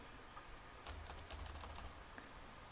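Code is being typed on a computer keyboard in a short burst of quick, light key clicks that are faint and close, followed by a couple of scattered taps and then quiet.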